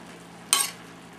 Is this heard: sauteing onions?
yes